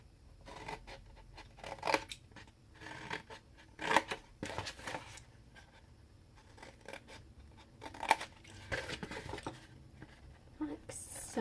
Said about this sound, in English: we're going to cut up each of our score lines to this score line here